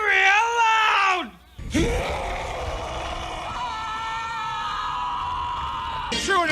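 Several voices scream loudly on cue, a long wavering shriek that drops away, followed by a sustained, strained howl held for several seconds and a final rising cry.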